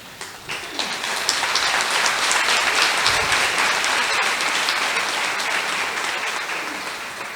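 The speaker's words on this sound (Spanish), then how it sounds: "ruego a la distinguida concurrencia abstenerse de los aplausos" Sustained applause from the audience at a courtroom hearing, a dense, steady clatter of many hands filling the room at even loudness for the whole stretch, with no voices on top.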